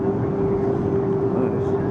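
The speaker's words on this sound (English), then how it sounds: "Now we're taxiing out over the freeway here." Airliner taxiing out over a freeway, heard from inside the cabin as a steady low engine rumble with a constant tonal hum, close and even throughout.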